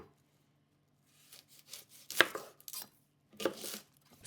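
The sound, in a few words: knife slicing onion thinly on a board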